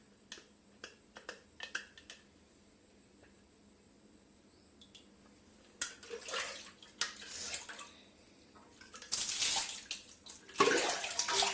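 Water drained from boiled sour sorrel (ambat chuka) greens, beginning with a few sharp clicks and taps, then rising into bursts of pouring and splashing water heard close, loudest toward the end.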